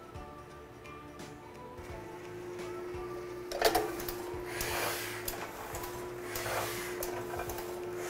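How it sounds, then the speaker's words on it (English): Letterpress printing press running business card sheets, a faint, steady mechanical hum with rhythmic clanks and soft thumps repeating every second or two. "Once we've run all the sheets through the press"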